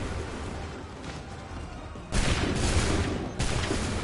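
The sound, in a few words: volley of musket fire in Assassin's Creed 3 video game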